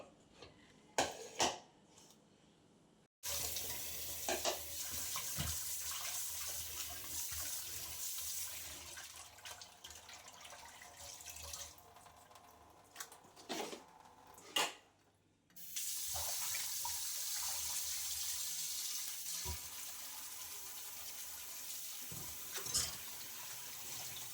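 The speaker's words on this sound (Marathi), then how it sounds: "मटण चांगलं दोन ते तीन पाण्याने स्वच्छ धुवून घेते" Mutton pieces being rinsed under a running kitchen tap, a steady close rush of water broken by short pauses and handling splashes, then flowing on continuously.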